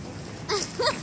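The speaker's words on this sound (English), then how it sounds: "It's a parrot." Parrot calling from the top of a palm tree in San Diego, a few loud, harsh squawks over faint background hiss, coming in two short bursts after a quiet start.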